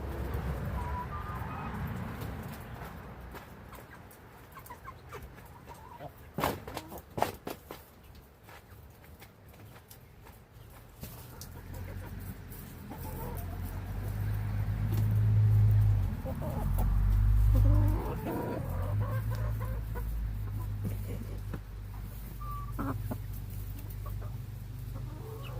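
Six young chickens cluck and murmur close by in a steady, busy chorus, with occasional sharper squawks rising above a low rumbling background.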